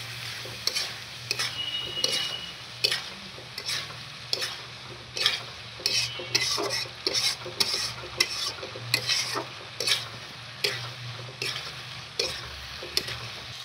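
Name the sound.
spices being stir-fried (sautéed) in a pan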